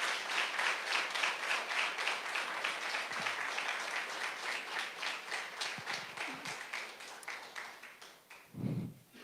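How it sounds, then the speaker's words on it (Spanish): Church congregation at a Catholic preaching event gives a strong round of applause, dense rhythmic clapping that gradually fades out. "Dale un fuerte aplauso al Señor"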